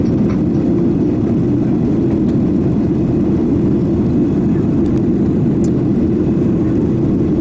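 Cabin noise on a passenger plane in flight to Crete: a loud, steady low roar of engines and airflow that fills the space without change, with faint clicks here and there.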